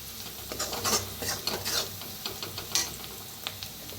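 Ground spices including turmeric, red chilli powder and coriander powder roast in a pan for okra, with a low sizzle under a quick run of scraping spoon strokes and light metallic clinks, fairly close and steady.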